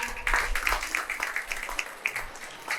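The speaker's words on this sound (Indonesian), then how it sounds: "Tepuk tangan dulu untuk anak-anak." Audience at a vocational high school graduation ceremony clapping for the students, a modest round of scattered individual claps in quick irregular succession, fairly near and moderate in level.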